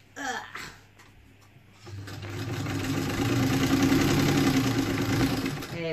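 A sewing machine stitches a van cushion cover, starting with a few short bursts and then settling into a continuous, close, loud whirring run for the last four seconds.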